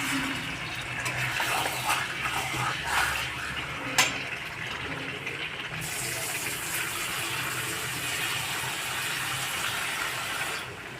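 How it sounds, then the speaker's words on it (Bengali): Water poured into a pan of fried cauliflower being roasted, a steady broadband gush running nearly continuously for about eleven seconds at a constant close level, with one brief sharp clink near the middle. "এবার আমরা এখানে জল দিয়ে দিচ্ছি"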